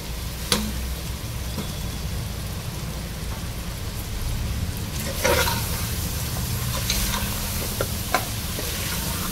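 Cut raw mango pieces fry with mutton in a pan: a steady dense sizzle with occasional scrapes and knocks of a stirring spoon, close and continuous with no talking.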